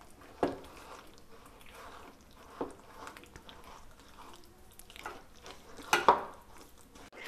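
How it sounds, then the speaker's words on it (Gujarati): A spoon mixes mango pulp, curd and powdered sugar in a bowl, producing faint soft squelching with a few sharper clinks against the bowl, spaced irregularly and close by. "હવે આપણે આને સરસ બધું મિક્સ કરી લેવાનું છે"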